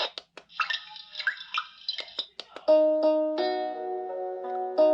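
A HeimVision digital LED alarm clock plays its water sound setting, with hollow drips and bubbling plinks at first, then a sustained ringing, tonal trickle that fills the rest. The sound is close and clean, with no talking.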